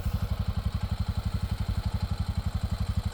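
Honda Pioneer 700 Deluxe utility vehicle engine idling close by in a sandy backyard, a steady, rapid low thumping pulse with a faint clatter on top, no voices.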